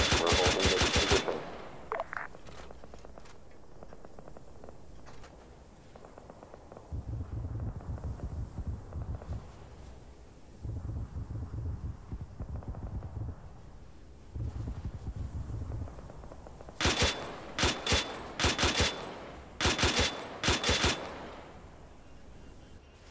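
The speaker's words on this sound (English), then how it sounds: "I'm gonna cease fire because those guns are really limited on ammo" Bursts of automatic gunfire in the Arma 3 military game, with sharp loud volleys at the start and a rapid string of shots near the end, separated by low rumbling wind and distant machinery-like noise.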